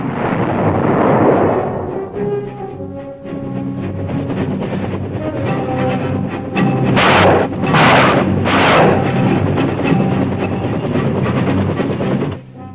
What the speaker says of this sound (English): Air Force strikes, artillery fire, and Army gunships prepared the way.